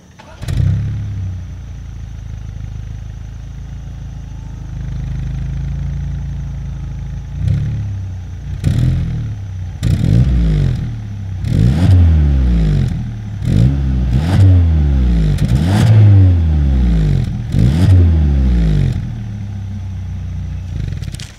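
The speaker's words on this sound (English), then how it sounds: "As always, here is that exhaust clip." A 2022 Hyundai Sonata N-Line exhaust idles low, then revs in repeated sharp bursts that climb and fall, growing more frequent and louder toward the end, close up.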